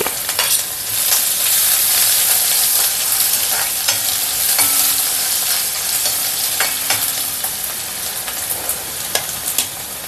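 Chopped onion and ginger, along with cut chillies, fry and sizzle in a pan for a Kerala cucumber pachadi, a steady close crackle broken by stirring scrapes throughout.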